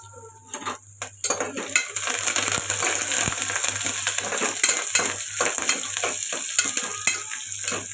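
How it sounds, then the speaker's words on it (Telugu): Onions and curry leaves frying in a pan, a constant bright sizzle under repeated metal-utensil scrapes and clinks against the pan, close and moderately loud, no voices. "ఉల్లిపాయలు ఇలా వేగుతున్నాయి కదండి"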